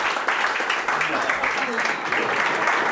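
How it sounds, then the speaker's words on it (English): A conference audience breaks into a short burst of steady clapping for a participant, the applause filling the room with a voice talking faintly over it. "Give him a round of applause."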